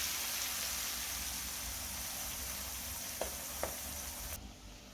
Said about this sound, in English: You will then add our onion, because the salted fish is been on the oil, it's been in the oil for about two minutes.